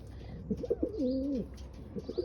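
Pigeons, including a blue pigeon kept in breeding pairs, coo close by in soft repeated throaty calls, with one longer rolling coo in the middle.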